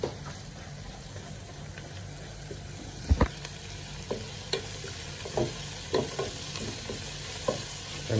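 Chicken adobo with string beans browns in a pan, a soft continuous sizzle broken by irregular scrapes and knocks of a utensil stirring, close by with no speech.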